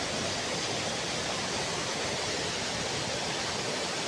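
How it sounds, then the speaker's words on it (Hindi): Steady, dense rush of a waterfall pouring among trees and crashing onto rocks below, a continuous broadband roar heard close and loud with no voices. "चारों तरफ पेड़ हैं और उनके बीच में से वाटरफॉल है।"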